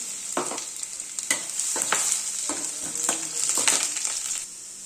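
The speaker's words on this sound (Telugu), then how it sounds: "వేగాక అందులో గార్లిక్ వేసుకోవాలి." Garlic frying in a pan for veg fried rice gives a bright, continuous hiss, broken by a series of scraping stirs roughly every half second, close and alone without talk.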